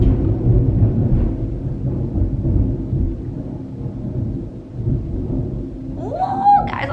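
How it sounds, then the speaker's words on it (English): A deep, rolling rumble of thunder from a spring storm swells and fades over several seconds, low and sustained with no speech. "That was like the first big like sound of thunder"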